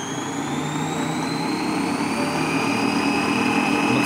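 Electric "Udarnitsa" yarn winder spinning at its top speed of about 2300 rpm, a steady loud machine whine with rising high tones and a constant low hum, no speech.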